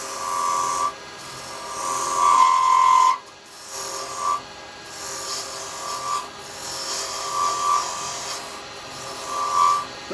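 A carbide round chisel cutting wood on a lathe, a steady scraping, rasping whine with a faint tonal hum, broken by brief pauses as the tool lifts off, close and continuous, no talk.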